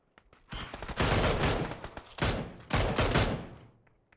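Gunfire in the video game PUBG Battlegrounds: loud bursts of rapid shots in several dense volleys with short gaps between them, close and harsh, with no talking over them.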